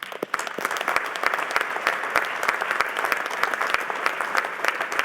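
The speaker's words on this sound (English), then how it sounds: "Everyone that got them to this point, please give yourselves a round of applause" Sustained applause from a graduate convocation audience of families and friends, dense steady clapping with a few sharper nearby claps over five seconds, no voices.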